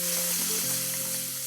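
Chopped tomato fries with ginger-garlic paste and a pinch of turmeric in a pan while making Khandeshi varan batti, giving a steady, close sizzle with no talking.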